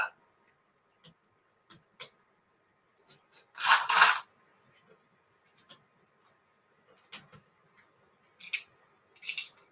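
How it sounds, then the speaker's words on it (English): Left-handed scissors snip several times, with one louder burst of cutting in the middle and a few sharp clicks near the end, close and fairly faint in an otherwise quiet room. "Coconut being introduced to left-handed scissors."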